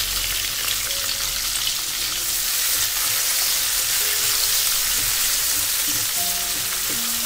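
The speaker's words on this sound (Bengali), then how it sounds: "কয়েক সেকেন্ড নাড়াচাড়া করে ভাজার পর এবারে আমি এতে দিয়ে দিচ্ছি পেঁয়াজ কুচি।" Chopped onion for chow mein is stir-fried in hot oil over a high flame, giving a loud, dense, continuous sizzle with occasional stirring noises close up and no voices.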